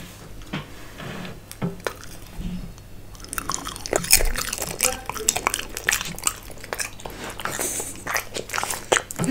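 A French bulldog puppy bites and chews a crunchy treat up close, with repeated sharp crunches and wet chewing growing busier in the second half, while a person talks softly at times.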